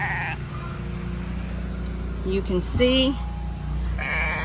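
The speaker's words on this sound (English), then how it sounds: "Look at the sheep, guys." Sheep bleat on a small family farm in Ghana, a couple of wavering, fairly close calls rising over steady outdoor background noise while a person talks.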